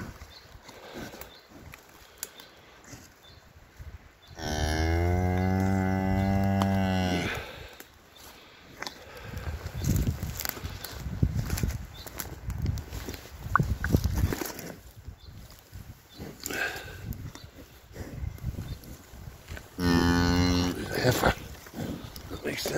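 A Limousin Shorthorn cow that has just calved outdoors gives two long, loud, deep moos, one early and one near the end, with a person talking quietly and outdoor noise in between.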